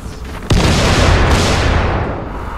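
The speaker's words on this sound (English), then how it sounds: "Crap, bombs. Too many bombs." A bomb explodes in Dying Light with an abrupt, powerful blast half a second in, followed by a sustained roaring, crackling rumble that slowly thins out, loud and close.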